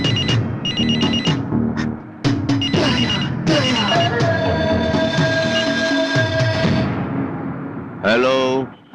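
Phone ringtone ringing in a Tamil film scene, a loud close melodic electronic tone repeating over several seconds, ending as a voice speaks briefly.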